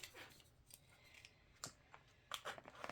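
Scissors cut open the plastic packaging on a Park Lane foil paper pad. A few faint, quick snips and crinkles come at irregular intervals in a quiet room.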